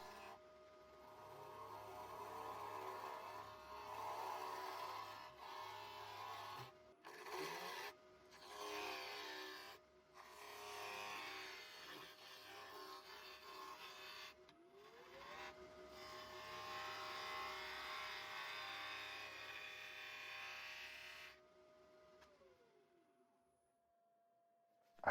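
A wood lathe spins a giant triangular hollow form at 1700 rpm, a steady mechanical whir with a sustained tone, broken by bursts of rasping cutting noise as a tool scrapes the spinning wood, then winding down and falling quiet.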